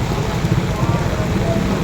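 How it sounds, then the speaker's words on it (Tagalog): Heavy rain pours down steadily, a dense, loud wash of drops drumming on surfaces with no break and no voices over it. "Super ulan guys."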